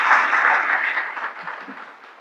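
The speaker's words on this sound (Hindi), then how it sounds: "तो फिलहाल तो पहले मेरे लिए ताली बजा दीजिए" An audience at a Hindi welcome ceremony breaks into dense, continuous applause that fades slightly toward the end.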